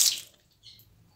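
Water poured over a black tap makes a brief, close splash at the very start, then thins to a faint trickle and a few soft drips.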